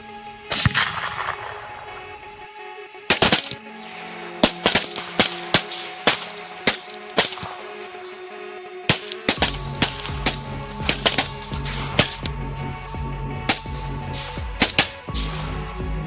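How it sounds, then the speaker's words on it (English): Rifle shots fired while hunting wild hogs in a Florida swamp, a run of sharp loud cracks spaced irregularly across the clip, several close together, over a steady outdoor background. "Holding my breath, I squeezed the trigger."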